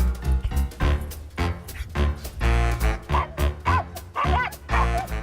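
Two anxious, restless pet dogs bark in a rapid series of loud, close yips and woofs, with strong low rumble underneath and no talking.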